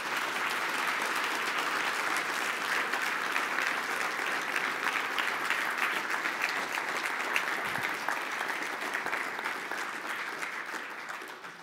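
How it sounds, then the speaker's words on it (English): Sustained applause from a conference keynote audience on C++ ranges, dense steady clapping filling the hall without a break and tapering slightly near the end. "I would like to get a big round of applause"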